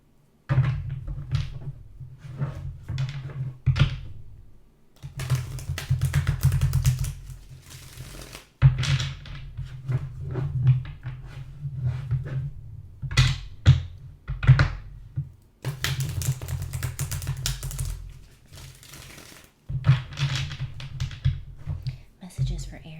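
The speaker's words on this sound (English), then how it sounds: "Just shuffling the deck here." A deck of tarot cards being shuffled up close, in bursts of riffling and soft flicking separated by pauses, with occasional low murmuring in between.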